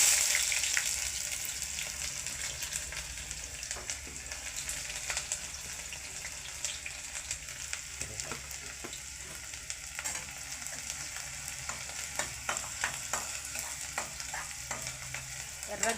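Onions frying in plenty of oil for an Andhra fish curry, a continuous close sizzle with frequent clicking and scraping strokes of a ladle stirring, no talk.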